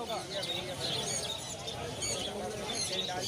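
Caged lovebirds and other small birds at the Galiff Street pet market in Kolkata fill the air with a dense, continuous chatter of overlapping chirps, close and busy, with a murmur of people beneath.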